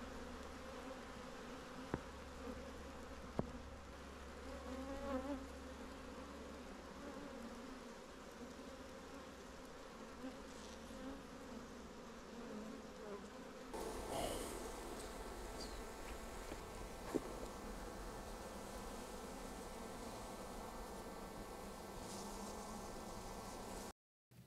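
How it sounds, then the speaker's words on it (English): Dense, continuous buzzing of many honeybees close by around an open hive during an inspection, growing a little louder partway through, with no voices. "there's bees everywhere"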